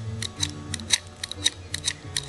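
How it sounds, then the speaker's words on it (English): A box knife whittles the end of a pencil to a point, giving a quick series of about a dozen short, crisp scraping cuts in an irregular rhythm, recorded up close. "I just take the box knife and I just whittle away at the end of the pencil."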